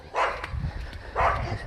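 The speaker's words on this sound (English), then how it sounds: "Sorry about the dogs." Dogs on a farm orchard bark twice, two short, moderately loud barks about a second apart at middle distance, with faint background noise.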